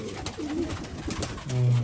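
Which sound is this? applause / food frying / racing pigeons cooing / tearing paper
racing pigeons cooing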